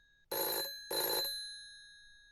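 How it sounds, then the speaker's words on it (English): Two loud, shrill bursts from the bell of a big rotary telephone, each ringing for about a third of a second and leaving a brief metallic decay after the second ring. "it's always the same kind of big rotary phone, like that loud, almost drilling sounding ringing"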